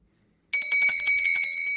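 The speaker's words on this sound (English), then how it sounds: "Spoiler bell has been rung for those of you who are new to this madness." A small bell is rung once, a bright metallic ding-ding ringing that starts abruptly after a moment of silence and keeps shimmering loudly to the end.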